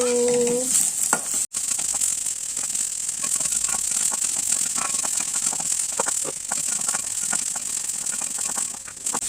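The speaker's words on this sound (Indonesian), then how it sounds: "Masukkan bawang putihnya ya. Tumis juga supaya harum dan layu." Garlic stir-frying in a pan for home-style sesame beef teriyaki, a steady loud sizzle with fine crackles throughout and a few scrapes and clicks from stirring.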